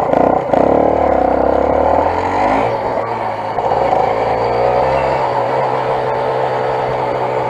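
125cc motorcycle being ridden, a close, continuous engine drone with a rising and shifting pitch early on, then settling into a steady cruising note.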